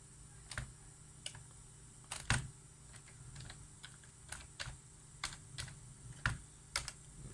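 Sparse, quiet keystrokes on a laptop keyboard as a password is entered in Kali Linux, roughly a dozen separate clicks at irregular intervals, with a couple of heavier taps, over a faint steady hum.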